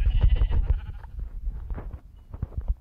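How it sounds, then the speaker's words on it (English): Sheep bleat in a crafting and building video game, a few loud, close bleats in quick succession followed by softer ones. "Oh, another sheep."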